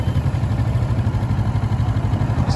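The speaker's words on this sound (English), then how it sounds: "Just a little putter when it's running idle, but these 650 engines are nice engines." A 650 motorcycle engine idling with a steady, even low putter, close and loud throughout with a regular pulsing rhythm and no talking.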